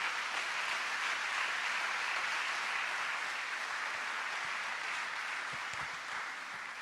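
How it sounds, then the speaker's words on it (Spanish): A church congregation applauds during a Spanish-language Sunday morning service, a dense, steady wash of clapping that fills the room at a consistent level and fades slightly toward the end, with no voices rising above it. "Yo quiero que con todas las ganas demos un aplauso fuerte a nuestro Dios en esta mañana."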